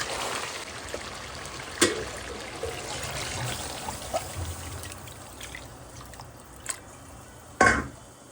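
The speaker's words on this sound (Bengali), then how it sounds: "এখন হচ্ছে আমি পানি দিয়ে দেবো।" Water is poured into a cooking pot of frying curry base once the oil has separated, making a steady trickling splash with a few sharp knocks and a brief louder burst near the end. No one speaks.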